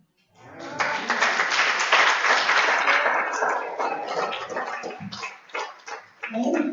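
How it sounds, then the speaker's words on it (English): Audience applause at a benefit concert for cancer, a dense wash of clapping that holds steady for several seconds, then thins into scattered claps and swells again near the end. "Give a round of applause."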